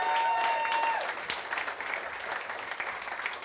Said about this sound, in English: how about a big round of applause for Act 1?